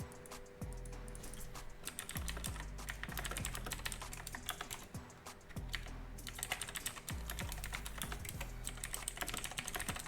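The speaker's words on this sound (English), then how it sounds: "Hope you like the ASMR from my keyboard." Rapid, steady typing on a computer keyboard during an esports broadcast, with dense clicking keystrokes running continuously up close, briefly pausing once, under a faint musical hum and no talk.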